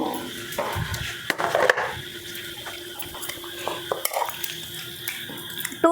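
Cumin and mustard seeds go into hot oil in a pan, bringing a light crackle and sizzle mixed with clinks of a spoon against cookware, close up and without speech.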